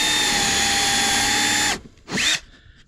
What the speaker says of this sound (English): drill the track in there.